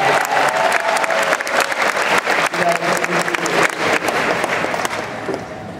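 Steady applause fills a graduation ceremony hall, many hands clapping close and loud, then easing slightly near the end.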